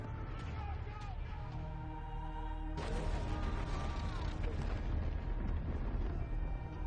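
A deep, rumbling film explosion from Dune bursts in partway through over a sustained low drone and music, then roars on loudly with heavy low-end rumble.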